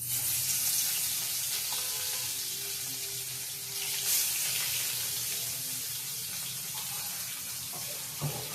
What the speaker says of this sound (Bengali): এই যে মাছটা কড়াই দিয়ে দিলাম, এরপরে মাছটা ভেজে নিচ্ছি